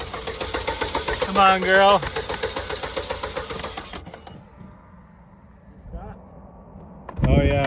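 A carbureted Ford F150 engine cranks with a rapid chugging rhythm, catches and revs briefly, then cuts out and fires again, loud and close, while someone talks over it.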